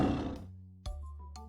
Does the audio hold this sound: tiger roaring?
yes